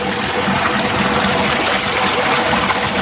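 Natural spring water trickles and splashes in a continuous close, bright gurgle that holds steady for the whole moment, with no one talking.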